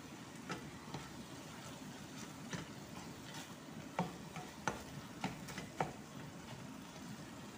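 Potatoes go into a frying pan and are stirred, a soft continuous sizzle with scattered light scrapes and taps, quiet and close.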